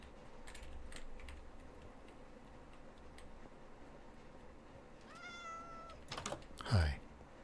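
A house cat meows with a rising, drawn-out call near the end, after faint keyboard typing and quiet room sounds, with a louder close bump or yowl at the very end.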